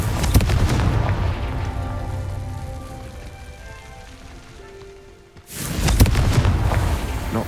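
A Confringo fire spell explodes in Hogwarts Legacy, a loud, roaring boom that rumbles and fades, then is cut off by a second burst of heavy blast noise.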